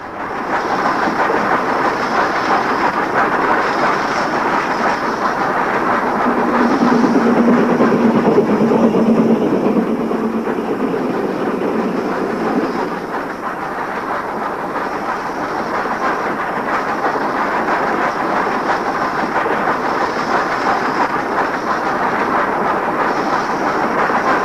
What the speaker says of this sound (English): meet a Whitby to York train with Class 5 loco number 45447 of Northampton shed in charge